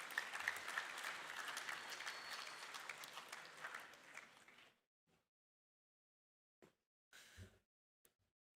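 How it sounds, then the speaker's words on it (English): Audience applause fills a presentation hall at a desert race event, steady clapping for about four and a half seconds, then cutting off into near silence with a couple of brief stray sounds. "How about we give them a round of applause while they enter the stage?"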